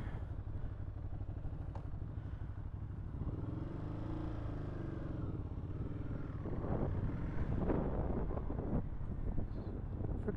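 A 2013 Ducati Hyperstrada motorcycle is ridden on a test ride, its engine droning and shifting pitch as it accelerates, with steady buffeting wind noise over the microphone throughout.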